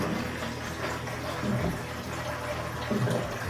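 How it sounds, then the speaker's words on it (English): Water pouring into the large reservoir of a Keurig K-Lite coffee maker, a steady close filling sound with gentle gurgles and a few small splashes, continuous and alone. "Filling the water reservoir. It's a pretty big one."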